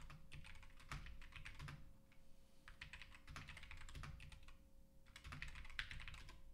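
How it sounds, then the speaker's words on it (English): Rapid clicking of keys typed on a computer keyboard, arriving in several bursts with short pauses, close by, with a steady low hum underneath. "Oh, no, you're typing."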